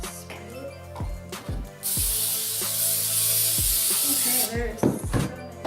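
Oil is sprayed onto a baking pan for cinnamon buns in a home kitchen: a long, loud, steady hiss, followed by shorter bursts, between clattering handling noises.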